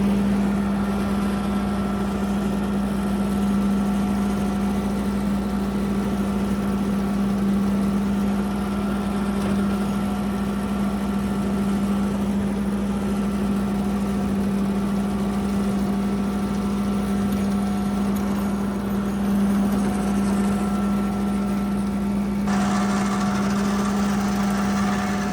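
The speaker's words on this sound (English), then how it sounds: "today I gotta go see if that new mower will work" A new large mower engine runs steadily on a farm, a constant droning hum with a strong low tone that holds even throughout, at moderate distance with no talking.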